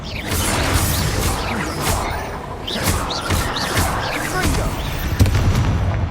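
Bombarda and Confringo explosion spells in the Hogwarts Legacy video game, repeated booming blasts and whooshes over a dense, loud game soundscape with rumbling low end.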